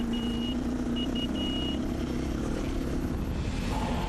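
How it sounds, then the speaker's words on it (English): A Sentinel warning beeper on a Hummer rally car, at a Dakar Rally stage, gives several high, evenly pitched beeps in short bursts over a constant engine drone, then goes quiet while the drone carries on. "The beeper giving good advance warning that the Hummer was coming through."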